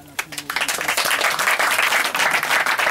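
Church congregation at a foundation-stone ceremony for a missionary centre breaks into loud, dense applause and cheering that builds quickly and holds steady, with voices mixed in.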